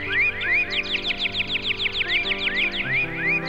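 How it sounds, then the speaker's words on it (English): Sparrows chirp busily in a quick, repeating chatter of bright, short notes, clear and fairly close, with a faint low hum beneath. "Now, what's that sound? Sparrows!"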